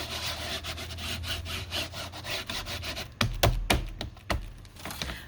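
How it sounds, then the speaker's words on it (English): A fingertip rubbing back and forth over paper to emboss a print onto a book page, dry scratchy strokes in a steady rhythm with a few louder taps and rubs near the end. "the reason I'm rubbing this with my finger"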